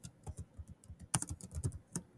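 A title being typed on a computer keyboard: a quick, uneven run of light key clicks and taps, close and clear, with no talking.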